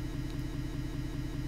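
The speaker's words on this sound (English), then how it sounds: "we can easily and very clearly locate the noise sources from all the vehicles passing by" Vehicles passing by on a street, a continuous mid-pitched engine rumble with a steady pulsing idle-like texture, moderately quiet and without voices.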